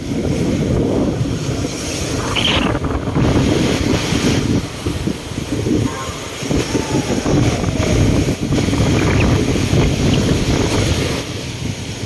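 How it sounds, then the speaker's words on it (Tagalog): Sea waves wash in at high tide during the southwest monsoon and a typhoon in the Philippines, a loud churning roar of surf mixed with gusty wind buffeting the microphone, continuous throughout. "Inaabot na yung dagat dito sa area na to."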